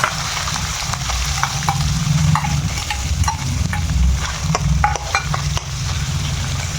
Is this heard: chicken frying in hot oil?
yes